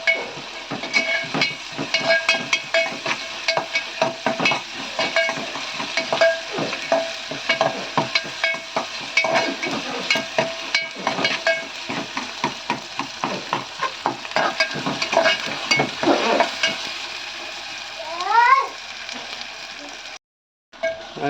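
Ingredients for Bombay rava upma fry in a pan with a continuous close sizzle and frequent scraping stirs. A few faint chirps come near the end before a brief drop-out.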